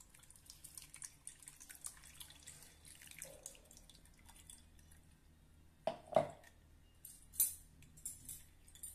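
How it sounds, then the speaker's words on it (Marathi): Blended beetroot juice drips and trickles through a sieve into a vessel below, a quiet steady patter with a few louder splashes and clinks near the end, close and without talk. "आता आपण हे गाळून घेऊया।"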